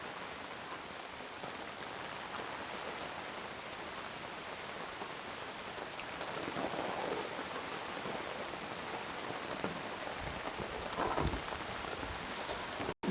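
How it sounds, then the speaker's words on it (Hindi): Heavy rain pours down in a dense, steady hiss of drops on surfaces, quiet and continuous, with no talk heard. "देखिए कितना तेज़ पानी बरस रहा है"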